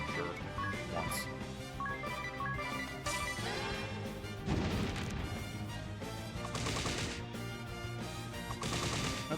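A fire spell cast in the Bravely Default video game bursts out as a series of sharp crackling blasts and crashes, layered over ongoing game music.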